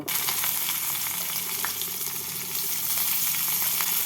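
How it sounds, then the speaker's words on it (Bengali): Chopped onions fry loudly in oil tempered with cinnamon and cardamom for a spicy snakehead fish curry, a dense continuous sizzle close up with faint stirring ticks. "পেঁয়াজগুলোকে দিয়ে লাল করে ভেজে নিচ্ছি"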